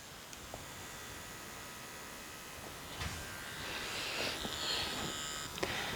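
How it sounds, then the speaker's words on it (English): A faint, steady electric buzzing from a Dragonhawk Mast permanent makeup tattoo machine running at 4.5 volts hums continuously under a hissy background, with a few light taps and clicks scattered throughout. "The tattoo machine has vibration and noise, but you can work with it."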